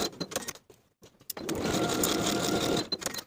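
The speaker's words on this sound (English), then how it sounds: "Then I'll sew my side seams with a 3/8 inch seam allowance and press the seams open." A sewing machine runs steadily for about two seconds, stitching the side seams of a midi skirt with a 3/8 inch seam allowance, preceded by a few short bursts and clicks of handling.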